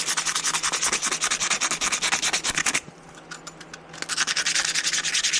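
Edges of a purple part being hand-sanded with 80 grit sandpaper, loud rapid back-and-forth rasping strokes in a steady rhythm, briefly pausing midway before resuming, close and alone without speech.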